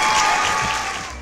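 A church congregation claps in praise of God, a dense, steady wash of applause that fills the space and fades slightly toward the end.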